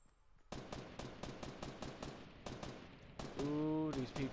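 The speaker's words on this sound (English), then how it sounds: "These people are having a firefight right beside me." Rapid bursts of automatic gunfire from a video game firefight crack close by in a dense, steady stream, followed by a louder sustained blast with ringing tones near the end.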